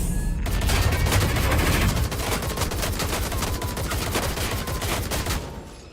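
Gunfire in the Watch Dogs: Legion video game, a dense rapid fusillade of shots rattling continuously for several seconds before tapering off at the end.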